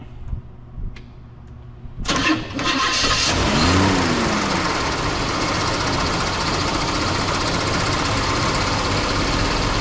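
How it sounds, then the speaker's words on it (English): A transmission dyno testing a CRT 48RE with a trans brake valve body fires up after a short quiet stretch, jumping into a loud, steady mechanical roar with a brief rising whine as it spins up, then holding at a constant level. "I'm gonna fire up the dyno"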